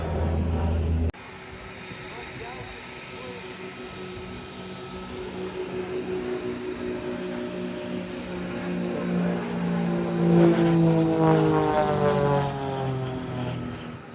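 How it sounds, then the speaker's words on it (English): Propeller aircraft flying at Farnborough Airshow with gear and flaps down, a steady engine drone that swells and shifts pitch as it passes, heard under a commentator's continuous talk. "the plane's coming in dirty, gear down, flaps 20, starting that turn"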